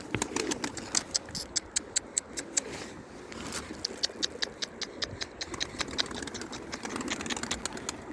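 Arab pigeons close by, giving faint low coos beneath a string of sharp, irregular clicks and flutters, fairly quiet overall with no talking.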